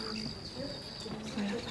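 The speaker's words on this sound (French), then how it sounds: "Chaque son, en fait, c'est un chant d'oiseau." Synthesized bird song from a modular synthesizer installation, with faint electronic chirps and tweets, a thin high whistle and short warbling tones over a noisy room background.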